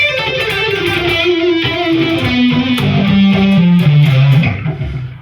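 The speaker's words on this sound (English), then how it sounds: "just do the first 2 notes on each string and it'll sound like this" An electric guitar plays a major scale pattern with two notes per string, a quick stepwise run of clear, loud single notes descending in pitch over about five seconds, alone without talk.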